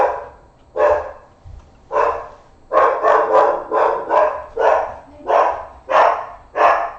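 A dog barks repeatedly at a mail truck in a home setting, loud and close, with about ten sharp barks in quick irregular bursts and no talking.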